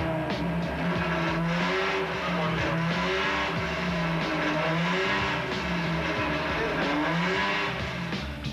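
A 600-horsepower Lamborghini Diablo V12 engine runs on a test bench, revving up and down in repeated surges over a continuous loud drone, close and without talk.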